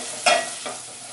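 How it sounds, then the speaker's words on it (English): A spoon scrapes through a roux of flour being worked into melted butter in a pan over medium heat, with one sharp stirring stroke and a softer second pass amid a light background sizzle, close and loud. "keep mixing until all the flour is absorbed by the butter"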